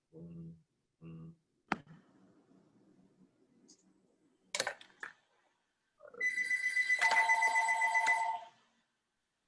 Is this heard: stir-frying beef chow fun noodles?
no